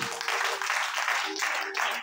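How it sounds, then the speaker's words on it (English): A church congregation claps for Jesus at a service, a steady wash of many hands sustained throughout, with faint tonal voices or singing threading through beneath. "Clap for Jesus"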